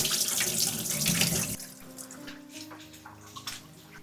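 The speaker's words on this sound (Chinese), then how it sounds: "抓洗完成後，先用清水冲洗，将排骨浸泡流水裡，再調小水流" Tap water runs onto pork ribs in a sink during rinsing, before steaming them Cantonese style. A strong, steady rushing stream drops abruptly to a softer, thinner trickle partway through, with no talking.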